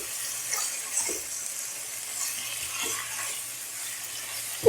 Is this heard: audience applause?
no